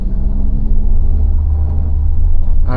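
A Mahindra XUV700 AX7L diesel accelerates with a loud, steady low engine rumble heard from inside the cabin, climbing toward a gear shift at 3500 RPM.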